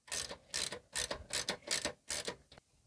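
A hand ratchet tightening the drain plug on an old Craftsman lawn mower, six quick bursts of rapid clicking in an even rhythm followed by one short final click, close and clear.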